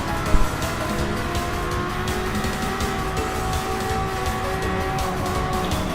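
750-class race cars competing on a circuit in Japan, a steady loud engine drone with layered revving tones and a brief louder burst near the start, continuous with no pauses.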